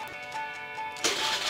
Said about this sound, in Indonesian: motor dinyalain,